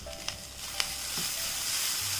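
Chopped carrot and capsicum sautéing in a pan, a soft steady sizzle with a few light clinks and scrapes of stirring, fairly quiet and close, no voices.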